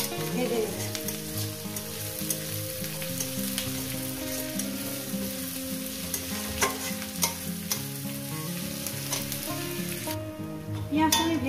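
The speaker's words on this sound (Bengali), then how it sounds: "এবার এটাকে আমি প্রায় 2-3 মিনিট ধরে আমি পেঁয়াজটাকে ভেজে নেব" Onions sizzling and frying in a pan ahead of katla fish head and greens, a steady loud crackle with stirring scrapes throughout and no talk.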